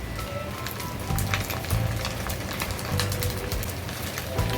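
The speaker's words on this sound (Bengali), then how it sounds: "এবার ডিমটা প্রায় ভাজা হয়ে আসছে এই যে দেখুন ডিমটা অনেকটা ভাজা" A duck egg frying in a pan, crackling and popping with a busy, rain-like sizzle that swells at times, close up, with no talking.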